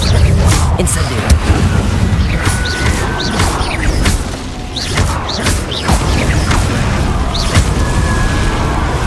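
Combat effects from Hogwarts Legacy, including the Incendio fire spell, come as dense booming blasts, crashes and whooshes layered over a continuous loud rumble, with repeated sharp impacts throughout.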